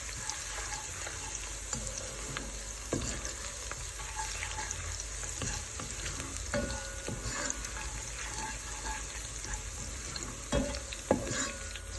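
Potatoes with garlic and herbs fry and brown in a pan, giving a steady close sizzle broken by scraping stirs and clinks; no voices.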